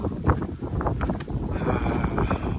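Wind gusts across the Tuwachung ridge hilltop in Nepal in cloudy weather, a steady rough rushing that buffets the microphone with no talk.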